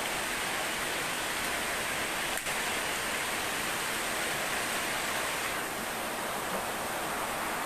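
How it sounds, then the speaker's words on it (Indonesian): Rain falls steadily as a dense, even hiss that stays constant throughout, moderately loud with no voices. "Hujan."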